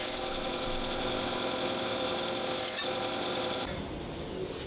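Bandsaw fitted with a 3/4 inch, 14 teeth per inch blade cutting wooden segments, a steady loud whirring drone that holds throughout, then eases slightly near the end, with no voices.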